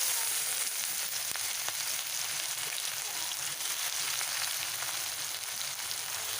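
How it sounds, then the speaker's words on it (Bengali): Onions frying in hot oil with dried chillies and spices in a pan for a Bengali fish-head dal, giving a steady, faint close sizzle throughout with no talk. "ভালো করে লাল করে ভেজে নেব।"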